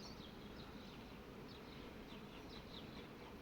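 A dense, steady hum of many honey bees buzzing close by, continuous and even, with occasional higher whines of individual bees passing.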